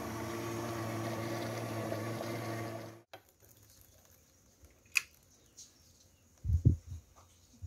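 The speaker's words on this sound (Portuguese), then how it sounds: "Agora vou tá levando e misturando o liquidificador junto aquelas misturas" A blender whirs loudly for about three seconds mixing condensed milk, cream and chocolate wafer cookies, then switches off, leaving quiet room noise with a few faint knocks and clinks.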